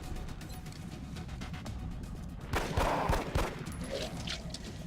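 Pistol fire at a floater in the XCOM video game, a short cluster of gunshot bursts with impact noise standing out in the middle of a steady game soundscape.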